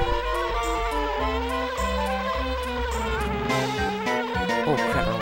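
A beehive in the video game Banjo-Kazooie hums with a steady insect-like drone beneath bright, layered in-game music, loud and continuous for the whole span.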